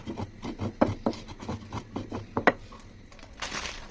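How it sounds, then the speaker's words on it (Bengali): Whole cumin ground by hand on a traditional grinding stone (batna), an uneven run of gritty rubbing strokes and small knocks of stone on stone, close and fairly quiet, ending in a softer hiss. "দিয়ে দেবো কিছু আস্ত জিরা, এটাকেও আমি বাটনার সাহায্যে বেটে নিব"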